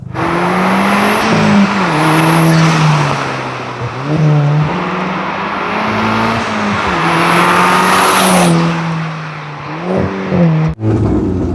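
A car accelerating hard through repeated gear changes, engine note climbing and dropping in loud, close waves with tire noise, no talk.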